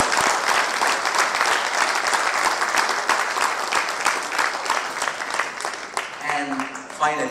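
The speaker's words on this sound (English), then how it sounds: "they deserve a big round of applause" A large audience claps steadily and loudly, a dense wash of applause that carries on throughout before thinning slightly near the end.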